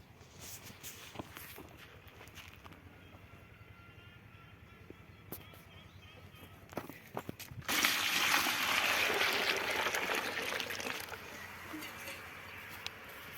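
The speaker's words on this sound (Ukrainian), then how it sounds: "гарячою водою заливаю негашане вапно" Hot water splashes and pours onto quicklime, starting quietly then swelling into a loud, steady hissing gush for several seconds, with faint shuffling and knocks around it.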